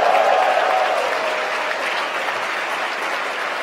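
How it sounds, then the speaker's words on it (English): Applause fills SpaceX Mission Control during a rocket launch, a sustained clatter of clapping from many people that fades slightly as it continues. "You can hear the applause from Mission Control."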